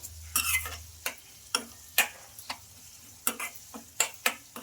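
A spoon stirs lemon pickle with jaggery in a pan, making a string of distinct close scraping and clacking strokes in an uneven rhythm against a quiet background.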